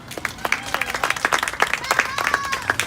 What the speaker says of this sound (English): I want you to give yourself a round of applause